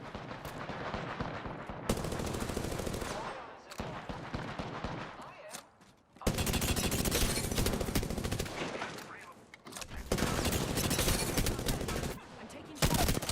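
Rapid bursts of automatic gunfire in a match of the video game Apex Legends, loud and dense, broken by a few short pauses.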